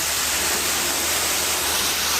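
Fresh water gushes from a bore hole on a farm in a constant, dense hiss and splash, close and loud, with no pauses and no talk.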